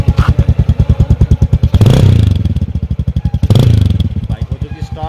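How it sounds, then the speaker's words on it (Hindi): A motorcycle engine runs after starting, close and loud, with a fast regular put-put firing beat and two brief blips of revving that swell and fade back to idle, with no one talking. "ये देखो भाई अपनी बाइक स्टार्ट हो चुकी है एकदम आराम से, तो आपकी एक बार आवाज़ सुना देते हैं बाइक के द्वारा।"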